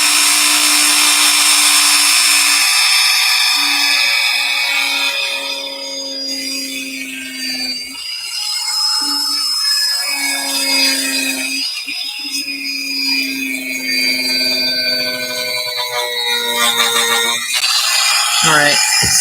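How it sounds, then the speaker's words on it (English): A power drill bores through plastic-coated wood while jewelry charms are made, giving a whining, grinding buzz that rises and falls in several passes, with a person talking over and between the drilling. "I got some of the plastic off by just drilling through the wood."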